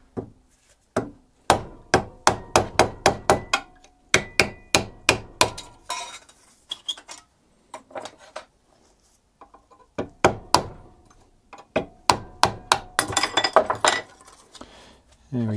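Metal hammering on front brake parts of a 2007 Ford Ranger 2.5, sharp ringing strikes in quick rhythmic runs with short pauses between bursts, loud and close.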